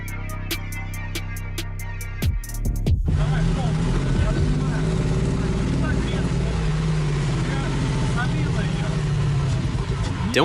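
Replica Lamborghini Aventador engine rumbling loud and close in city driving after a burst of mechanical clatter near the start, holding a steady low drone throughout while people talk over it.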